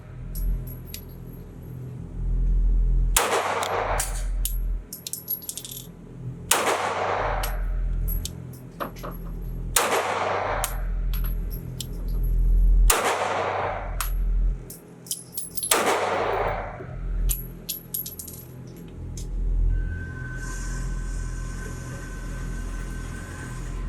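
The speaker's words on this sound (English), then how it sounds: "for me, the gun is still shooting low" A Kimber Micro 9 pistol fires at a shooting range: five loud, sharp single shots spaced several seconds apart, with a rattling, clinking background between them and no talking.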